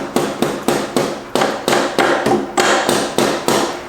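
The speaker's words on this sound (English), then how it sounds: "I can go tap, tap, tap, tap with the hammer" A hammer strikes a motorcycle carburetor with a sticking float, a Suzuki GZ250, in a steady series of about eight sharp, ringing taps, close and evenly spaced.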